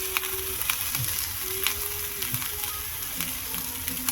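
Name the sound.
chickpeas and onion frying in pan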